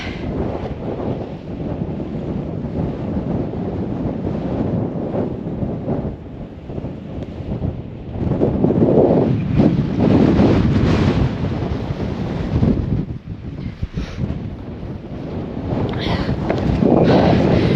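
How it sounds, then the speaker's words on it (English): Strong wind on an exposed fell in Great Langdale roars and buffets the microphone in a loud, continuous rush, with gusts surging stronger partway through and again near the end, and no talking. "that wind's getting up now that I'm exposed"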